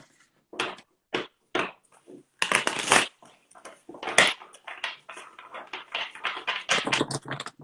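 Oracle cards are shuffled and pulled by hand, a series of quick papery riffling bursts and soft slaps, close and fairly quiet, some short and spaced, then a denser run of shuffling.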